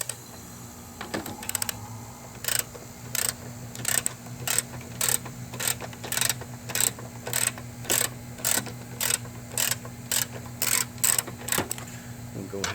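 A ratchet works bolts loose on a Chevy Cruze 1.4L turbo engine, giving short, evenly spaced bursts of clicking at close range against a low steady hum.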